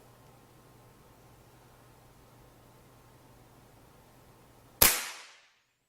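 Benjamin Maximus PCP air rifle firing a pellet: after a quiet stretch of low room hum, one sharp, loud crack with a short fading tail, heard alone.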